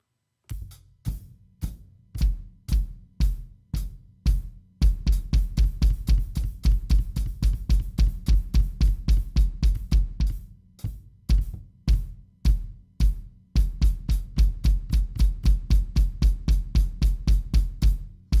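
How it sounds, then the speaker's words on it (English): Hi-hat and kick drum struck together in a steady pulse, starting slowly and then speeding up, crisp and close with no voices. "So we're going to play it hi-hat and right foot."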